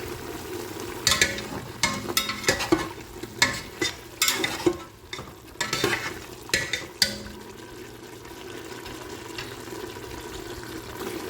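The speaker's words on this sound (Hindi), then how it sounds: "अब हम इसको 2 से 3 मिनट और भूनेंगे" Meat for Peshawari namkeen gosht sizzles in a hot pan while a spoon scrapes and stirs it in irregular strokes, close up, the sizzle continuing steadily after stirring stops.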